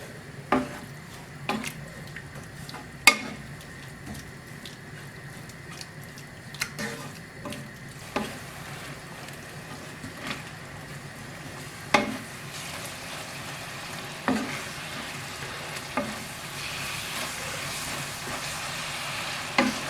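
A mixture for Ila Ada fries and sizzles in a pan while a spoon stirs it, scraping and clinking against the pan at irregular intervals over a constant close sizzle, with no one talking.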